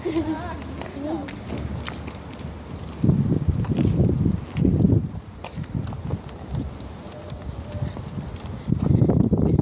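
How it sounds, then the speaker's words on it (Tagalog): Strong, cold gusty wind buffets the microphone in loud bursts outdoors in Warsaw, Poland, with a voice talking faintly underneath. "ang lakas ng hangin, ang lamig"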